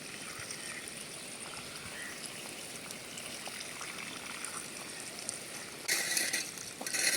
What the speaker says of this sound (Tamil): நல்லா தண்ணி ஊற்றிக்கலாம்.